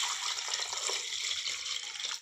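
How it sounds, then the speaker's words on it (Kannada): Water runs steadily into a pot of greens set to boil in a pressure cooker in a home kitchen, a continuous bright splashing hiss that holds even throughout, then tails off at the end. "ಇದರೊಳಗೆ ಇದು ಮುಳುಗಷ್ಟು ನೀರು ಹಾಕಿ ಬೇಯಕ್ಕೆ ಹಾಕೋಣ."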